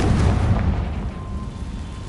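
Confringo spell explosion in Hogwarts Legacy, a single deep booming blast that rolls off into a fading low rumble, with no talk.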